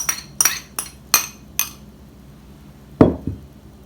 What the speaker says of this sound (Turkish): İyicene karıştırıyoruz malzememizi arkadaşlar